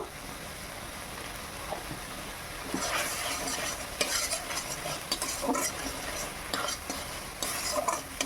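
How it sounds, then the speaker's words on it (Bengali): Mustard and chili paste with turmeric and melted tomato is stirred in a frying pan for a sour fish curry, with repeated scraping strokes over a soft, steady sizzle. "ভালো করে নেড়ে নিয়েছি"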